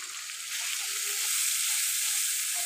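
Ground coriander and cumin sizzle in hot oil as they are stirred in a pan, a close, continuous frying hiss that swells slightly midway.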